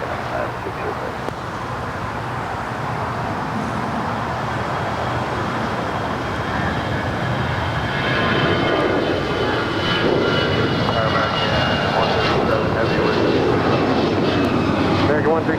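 A KLM heavy jet airliner takes off from runway 25 right at LAX, a building roar of aircraft engines with road traffic in the background while radio voices speak over it.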